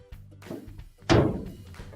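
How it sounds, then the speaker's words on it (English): A GE gas dryer door swings shut with one solid thunk, close and fairly loud, after softer handling sounds of panel work. "Now we can close our dryer door."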